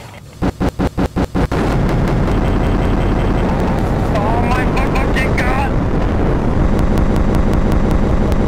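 A burst of rapid clicks gives way to a sudden, sustained roaring blast that rumbles on loudly, like a big explosion in a MilitaryRP game, with people talking underneath.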